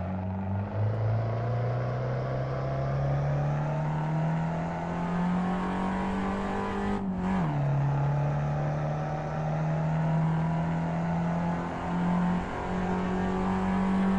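Ford Fiesta XR2 engine held at full throttle on a lap of Tsukuba circuit, a steady droning rise in revs that dips for a gear change and then climbs again, heard from inside the car.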